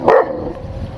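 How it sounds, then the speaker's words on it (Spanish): A guard dog barks once, loud and close, followed by a brief fading tail of lower rumble. "¡Ay, los perritos que los cuidan!"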